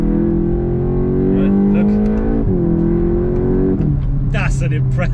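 A 2021 VW MK8 Golf GTI Clubsport engine drones steadily under a driver's voice, its pitch climbing and then dropping sharply twice as it revs through downshifts, close and prominent throughout.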